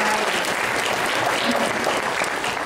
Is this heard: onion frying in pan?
no